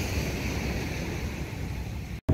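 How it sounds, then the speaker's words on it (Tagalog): Strong wind gusts by the sea buffet the microphone as a loud, continuous roar mixed with surf-like rushing noise over a bit more than two seconds, ending in a sudden brief dropout. "Ayan, nakita niya malakas ang hangin."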